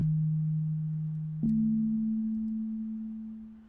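A pure synthesized sine tone holds steady, then jumps slightly higher in pitch after a brief click and sustains, slowly fading.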